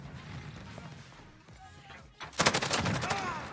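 Bruen MK9 fire in Modern Warfare breaks out as a rapid automatic burst of loud, crackling shots after a quieter stretch of game ambience and speech-like background sound.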